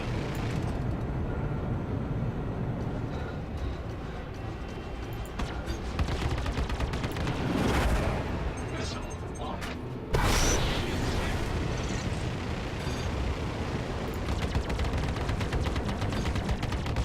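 Ship-mounted weapons firing in the Star Citizen space combat game, a dense continuous barrage of rapid shots that swells and bursts, with a loud surge partway through, sustained and close.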